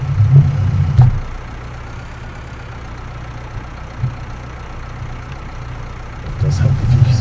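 Tractor engine in Farming Simulator 19, a low mid-pitched idling drone that revs up at the start and again near the end, with speech heard over it.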